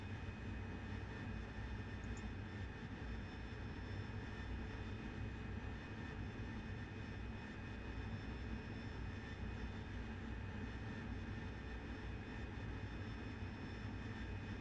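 Jet aircraft engine in the DCS flight simulator game drones as a steady, dense, loud roar with a constant whine, unbroken throughout and free of talk.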